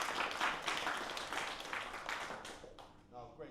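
An audience at a disability and wheelchair rugby panel event gives the panel a round of applause, with dense, steady clapping from many hands that fades toward the end as a voice begins speaking.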